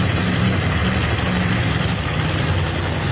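Pulling-truck engine at a truck and tractor pull in Bowling Green, Ohio, a loud, dense rumbling roar held at high RPM without letup, heard from a distance through the grandstand.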